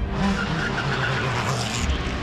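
Race cars racing in Adelaide, a loud continuous engine roar with shifting pitch and tyre noise as cars speed past, filling the whole moment without talk.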